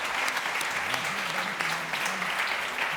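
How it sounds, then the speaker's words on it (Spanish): Conference audience applauding at a tourism event on sun-and-beach destinations, a steady dense wash of clapping filling the whole stretch, with a faint voice murmuring underneath. "un aplauso"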